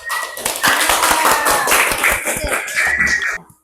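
A school class clapping hands after a group presentation, a lively burst of many overlapping claps, loud and close, lasting a few seconds before stopping abruptly, with a few voices mixed in.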